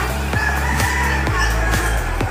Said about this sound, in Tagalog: Daming ibon na rin.